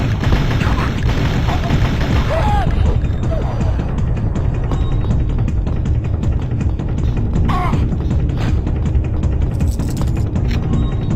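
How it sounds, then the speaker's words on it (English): Pulse rifle gunfire in Turok: Dinosaur Hunter, a dense, loud run of rapid electronic shots and booms that goes on for the whole stretch, with game sound effects mixed in and no talk. "The dude behind me is going to shoot his pulse rifle at me."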